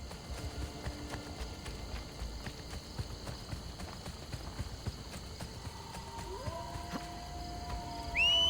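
Horse hooves clip-clop steadily in the Assassin's Creed Brotherhood video game, a fairly quiet continuous patter over game ambience, with a brief louder swell at the very end.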